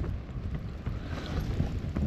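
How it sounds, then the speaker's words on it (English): Strong, constant wind roars and buffets a tent at a winter wild camp in a Lake District blizzard, a loud, steady rush that never lets up, with no voices. "Wind's never stopped."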